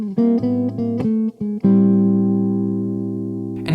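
A chord is played with dissonant passing notes slipped onto the offbeats, giving a quick run of short shifting tones before one long sustained chord rings out and fades.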